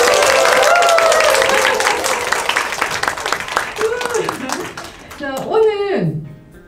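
An audience claps together to open a small community-library workshop at a 2021 national reading festival, dense clapping loud at first, then thinning and fading under voices.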